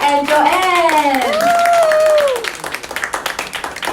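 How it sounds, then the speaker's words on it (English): A seated audience at an evening forum claps together in a brief burst, close and fairly loud. Cheerful voices and whoops carry over the start before the clapping takes over and fades into scattered claps. "Shall we put our hands together and welcome Angela and Joanne?"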